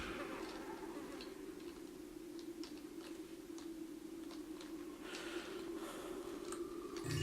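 Bees buzz in the video game Thief: Gold, a faint, continuous insect drone holding steady throughout, with a few light ticks scattered through it.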